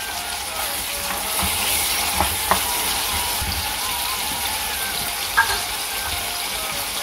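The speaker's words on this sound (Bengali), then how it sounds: "পাশাপাশি এখানে আমার মাছটা ভাজি হচ্ছে, এই মাছটা আমি রান্না করব। আবার এখানে মশলাটাও আমি কষিয়ে নিচ্ছি" Fish frying in a pan alongside spices being sautéed, in a home kitchen in Sweden, gives a steady, close hiss of sizzling oil with a few faint utensil clinks.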